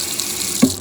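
Water from a tap running steadily over moldy bowls being rinsed in a sink, a soft continuous hiss with a brief louder splash near the end.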